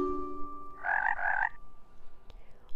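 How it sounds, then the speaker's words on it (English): A toad sound effect gives two short, close croaks in quick succession, clear and resonant over a faint low hum, then quiet. "Then who hopped up but the big green toad?"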